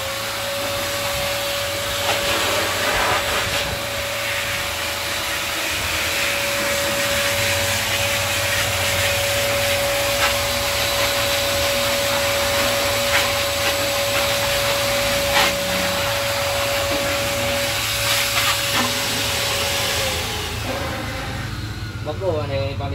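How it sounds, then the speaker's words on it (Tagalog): A loud electric blower roars steadily with a constant whine, running continuously throughout at close range while cleaning computers in a computer shop. "Yan yung gamit namin ng blower, guys"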